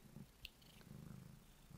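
A cat purrs softly and steadily at close range, a low rhythmic rumble with a brief small click partway through.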